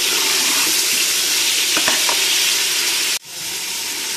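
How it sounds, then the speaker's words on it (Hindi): Beef frying in a pan for beef daal: a steady, loud sizzle throughout with a few clinks of stirring, then a sudden drop and a softer sizzle near the end. "अब इसे हम हल्का सा फ्राई करेंगे"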